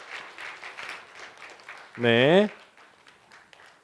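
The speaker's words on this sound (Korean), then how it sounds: "박수 주세요." A Sunday church congregation gives light, scattered clapping at moderate distance while a speaker briefly talks over it.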